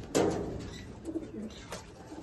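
Pigeons in a loft give a few soft, throaty coos nearby, a short low burble with a brief sharper note near the start, fairly quiet against the room's background.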